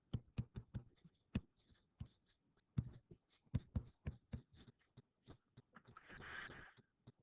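A pen or marker scratches and taps quickly across a surface while integrals are written out by hand, with irregular close strokes and ticks and a longer, softer scrape near the end.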